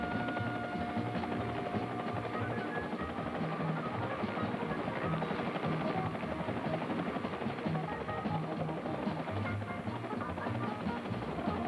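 An AH-1G Cobra gunship helicopter in flight gives a steady, loud, unbroken drone of rotor and turbine engine that fills the whole stretch without a pause and with no voices.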